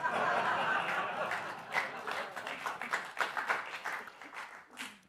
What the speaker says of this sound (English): Thank you for that polite applause